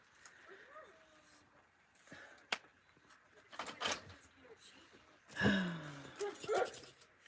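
A dog jealous of chickens being fed beans from a can whimpers and yips in short, uneven bursts outdoors, moderately close, with someone talking over it.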